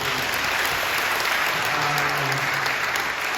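Church congregation applauding at a Friday night service, thanking a vocal ensemble; a dense, steady wash of many hands clapping fills the room for the whole stretch, loud and continuous with no talk over it.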